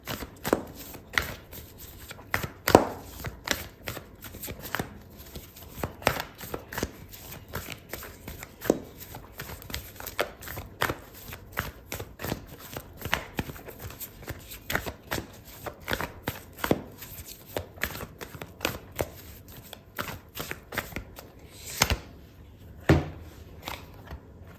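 Oracle cards shuffled during an Aries love tarot reading, giving a steady run of crisp papery riffles and sharp snaps that repeat close up for about 25 seconds, with no talking.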